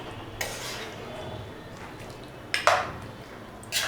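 Mutton masala curry being stirred in a pan, with a few scraping clinks of a spoon against the metal near the start, middle and end over a low kitchen hum.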